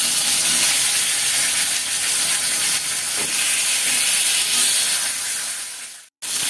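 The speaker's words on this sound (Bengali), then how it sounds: "কিন্তু একটু ভালোভাবে ভাজবো মাছটা" Fish frying in hot oil gives a loud, steady, close sizzle that hisses without pause for about six seconds, then cuts off abruptly.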